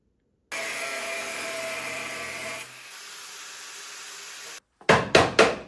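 A power tool whines steadily for about four seconds while cutting a weld on a Volkswagen Beetle heater channel, drops to a lower tone, stops, and then three sharp metallic knocks follow in quick succession.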